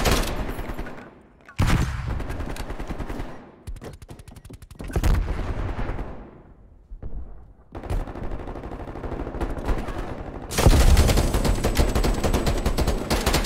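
Repeated bursts of Tech 9 submachine gun fire during a Team Deathmatch match in Call of Duty Black Ops Cold War, loud rapid volleys broken by short pauses, with a long continuous spray near the end.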